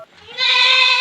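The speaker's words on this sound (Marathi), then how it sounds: "ही गावरान शेळी आपली, ती बसलेली ती एक काळी गावरान शेळी" A black native village goat lets out one loud, close, wavering bleat lasting under a second, with no talking over it.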